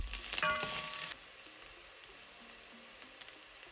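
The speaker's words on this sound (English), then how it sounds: "Now that our oil's nice and warm, we're gonna add in our onions." Onions hitting warm oil and beginning to sauté for caldo de queso give a bright crackling sizzle for about a second, then settle into a quiet, faint bubbling fry with small occasional pops.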